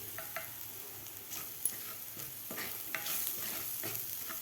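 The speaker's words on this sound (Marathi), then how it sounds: "आता व्यवस्थित आपल्याला हे वाटण परतून घ्यायचं आहे" Spice paste for a Mumbai-style vada pav potato filling sizzles in a pan while being stirred, a soft steady crackle with occasional scraping strokes of the spoon, close but fairly quiet.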